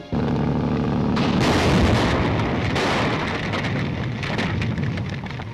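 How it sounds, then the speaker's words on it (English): A radio-drama explosion effect erupts in a sudden loud burst, then gives way to a sustained rumbling roar with crackling debris that slowly fades but stays heavy, with no voices. "That explosion will cause an intense investigation."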